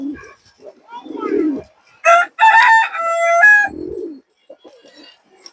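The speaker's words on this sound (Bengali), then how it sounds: "এই দেখেন কৌতরের নয় ডাকটা দেখেন" A khoragola pigeon calls in a few short harmonic bursts, close and fairly loud, between stretches of someone talking nearby.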